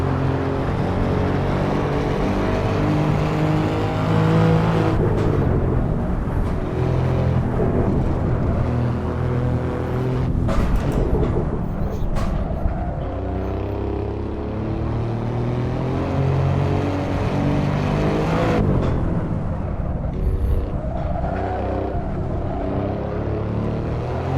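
An Alfa Romeo Giulia Quadrifoglio with a 2.9 V6 bi-turbo engine is driven hard on the Nordschleife, a loud continuous engine roar rising and falling through gear changes, heard from inside with no talk.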